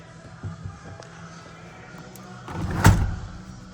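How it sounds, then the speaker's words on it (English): Door of a 1986 Chevrolet K5 Blazer being opened: a soft latch click, then a heavier metallic clunk and swing near the end, with low rumbly handling noise before it; close and moderately loud, no talk. "let's open up the door here"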